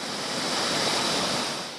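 Foamy, tannin-stained waterfall below a pale cliff, heard as a steady, dense roar of falling water that stays loud and unbroken throughout, with no voices.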